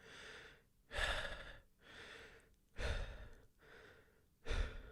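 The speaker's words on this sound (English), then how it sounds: "The only criticism here is a section where Katakuri spends 3 seconds on screen just breathing heavily, like so" Heavy breathing from Katakuri in a One Piece anime scene: close, loud breaths in a steady rhythm, with strong inhales alternating with softer exhales, about three cycles and no talk.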